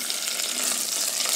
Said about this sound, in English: We'll saute it for a while until the flavor from the ginger julians comes